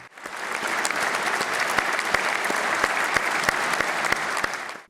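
Sustained applause from a crowd of politicians in the Polish Sejm honouring Pope John Paul II, steady and dense throughout with a few sharper claps standing out.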